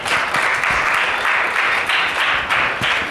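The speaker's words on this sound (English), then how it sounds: "Let's clap." Audience applause fills a public speaking contest hall, a dense, steady wash of many hands clapping at close-to-mid distance with no voices on top.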